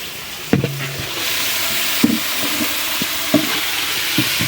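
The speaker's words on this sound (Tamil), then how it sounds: "இப்போ வெங்காய தக்காளி வதக்கிட்டு இருக்காங்க பிரியாணிக்கு" Onions and tomatoes fry for chicken biryani over a medium flame, with a steady sizzle and irregular scraping and clinking as a spoon stirs the pan.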